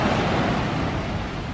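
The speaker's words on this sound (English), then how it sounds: "the waves are only splashing right at the beach" Steady, close wash of surf on Pensacola Beach along the Gulf of Mexico, a dense continuous hiss of waves breaking at the shoreline with some wind noise over the microphone.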